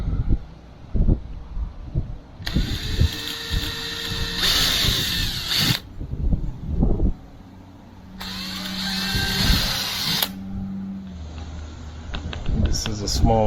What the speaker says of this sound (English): We're going to pre-drill the bottom holes.